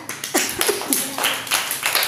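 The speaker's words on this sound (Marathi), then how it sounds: "टाळ्या वाजवा" Young schoolchildren in a primary school classroom clap their hands in a loose, uneven round of scattered claps. The claps sound close and fairly loud, with no talking.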